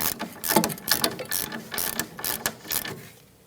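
A ratchet with an 18 mm socket snugs up the sway bar link nut during a front strut and spring replacement on a 2008–2013 Nissan Rogue, a close run of quick clicking strokes that fades out at the end.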